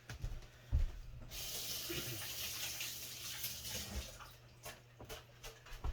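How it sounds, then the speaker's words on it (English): Sink tap water runs steadily while chilies are rinsed under it, a close, continuous splashing hiss with a few louder knocks and clunks against the basin. "basically just run them under the sink or water"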